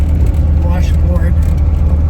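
A vintage Volkswagen rolls over a washboard dirt road near Moab, Utah, its engine droning low and steady under a constant rough, rattling rumble from the corrugated surface.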